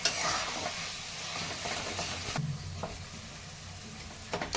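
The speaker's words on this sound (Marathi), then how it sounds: "वांग्याचं भरीत मिक्स करून घेते" A spoon stirs eggplant bharta with tomatoes and greens frying in a pan, giving a steady sizzle with scraping strokes close by.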